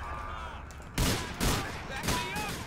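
A newly bought gun in GTA IV: The Ballad of Gay Tony fires in three sharp, loud bursts spaced about half a second apart, over a busy background of game sound.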